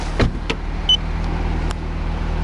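A 2016 Audi A6 engine starts in Germany with a short cranking burst that settles into a steady, close idle hum, with a faint whir partway through.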